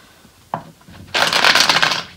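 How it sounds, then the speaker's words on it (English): Tarot cards shuffled by hand up close: a single sharp snap, then a dense papery riffle lasting about a second. "we'll probably do one more shuffle, see what comes up about for May"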